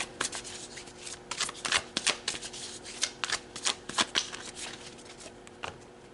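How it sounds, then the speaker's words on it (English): Tarot cards being shuffled by hand: a run of crisp, rapid riffling flutters and soft slaps, close and fairly quiet, repeating in uneven bursts with no one speaking. "So let's pull some more cards."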